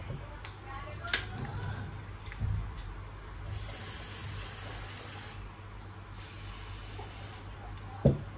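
White grease spray applied to a Glock pistol, heard as a steady close hiss lasting a few seconds, then a second shorter burst, with faint handling clicks and a low background hum.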